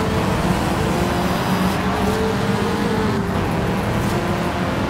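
An Audi races in Forza Horizon 4, its engine droning loud and steady throughout, with continuous road and tire noise and no talk over it.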